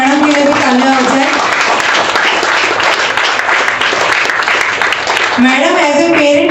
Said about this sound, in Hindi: तो मैडम के लिए भी तालियां हो जाए।